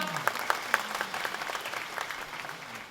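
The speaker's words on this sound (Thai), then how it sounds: "อาขอเสียงปรบมือให้ท่านนายกหน่อยครับ" Dense applause from a crowd at an outdoor stage event in Kanchanaburi, Thailand, greeting the prime minister. A few sharp claps stand out at the start before the sound settles into a steady, fairly distant patter.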